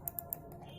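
Switch clicks from a Zeb Judwaa gaming mouse, three crisp sharp clicks in quick succession up close, then a quiet lingering rustle.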